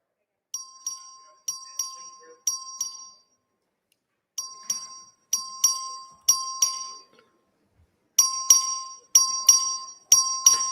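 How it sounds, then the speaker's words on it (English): A clerk rings the voting bell in a legislative chamber during a record vote: repeated bright double dings in short bursts, each ringing out briefly, loud and clear with silent gaps between groups. "The clerk will ring the bell."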